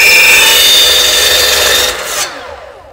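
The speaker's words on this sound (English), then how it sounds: "You just stick it on your miter saw and you can put your little piece there like this and hold it in" A miter saw cuts a small piece of wood held against a zero-clearance fence, a loud close whining blade roar that cuts off and spins down near the end.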